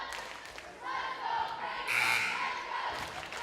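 Franklin fans cheer loudly in a school gym during a varsity volleyball match against Stoughton. The crowd roar swells, peaks, then eases, with shouts mixed into the noise.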